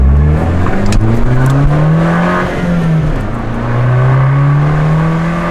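A Fiat 500 Abarth engine revving hard and accelerating, pitch climbing through gears, loud and close throughout.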